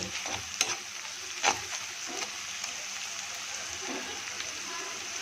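Armach fish fries in a pan with half a spoon of cumin powder added, giving a quiet, steady sizzle. A couple of soft clinks of a spatula stir through it, and no one speaks.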